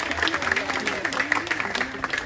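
Audience applause at a home welcome gathering for a Mr. Olympia bodybuilder, rhythmic clapping mixed with a voice talking over it throughout.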